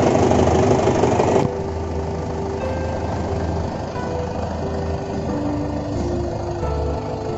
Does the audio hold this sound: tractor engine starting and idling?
yes